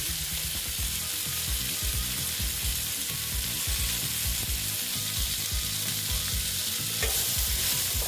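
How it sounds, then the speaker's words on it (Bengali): Pointed gourd (potol) frying slowly in a pan, giving a dense, constant close sizzle with a faint crackle and occasional soft clicks of stirring, heard alone and without voices. "পটলটাকে আমি যতটুকু পারি ভালো মতন ভেজে নেব। আস্তে আস্তে করে ভেজে নিচ্ছি।"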